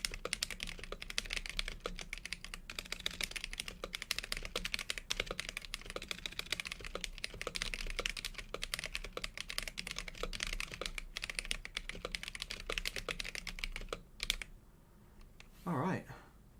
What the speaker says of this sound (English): Get some of that nice keyboard ASMR